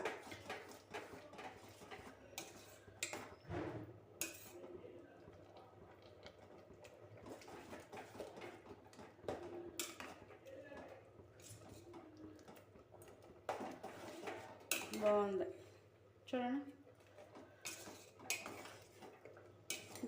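Gongura mutton curry stirred in a pot: a metal spoon scrapes and clinks against the pan in irregular knocks and squelches, close but fairly quiet, with no talking.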